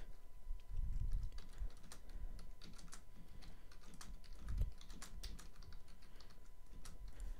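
Typing on a computer keyboard to write a description, irregular bursts of quiet clicking keystrokes with occasional heavier taps, close but soft against a faint room hum.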